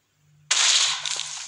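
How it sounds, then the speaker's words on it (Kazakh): A firecracker nearby starts with a brief soft fizz, then bursts sharply into a loud, sustained crackling hiss lasting about a second, with nothing else heard over it. "Енді мынаны бүйтіп жарып көреміз."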